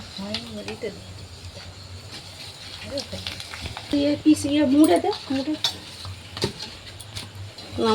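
Soft, steady sizzling of papad frying in hot oil runs throughout, with a stirring scrape and voices talking over it.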